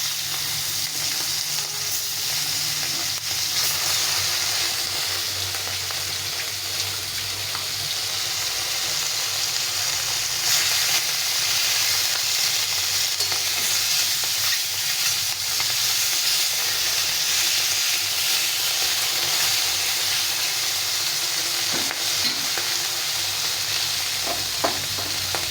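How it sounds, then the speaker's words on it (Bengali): Tengra fish frying together in hot oil in a pan, a continuous close sizzle and hiss with occasional spatters, steady and loud throughout with no talking. "সব মাছগুলো একসঙ্গে ভেজে নিলাম।"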